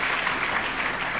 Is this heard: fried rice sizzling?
no